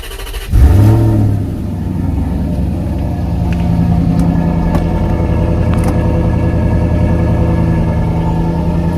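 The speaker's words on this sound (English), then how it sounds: "I'll just fire it up for you so you can hear" A Maserati GranTurismo 4.2 V8 engine cranks and fires up loudly, revs briefly, then settles into a steady, rumbling run close by.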